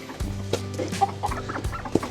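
Chickens and a rooster cluck close by in short, uneven bursts, with a few sharper calls breaking through the low murmuring.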